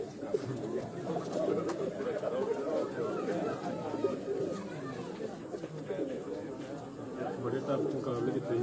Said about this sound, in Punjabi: ਇਹ ਰੈਡੀ ਬਰੀਡ ਦਾ ਕਬੂਤਰ ਤੁਹਾਨੂੰ ਦਿਖਾ ਰਹੇ ਹਾਂ ਜੀ।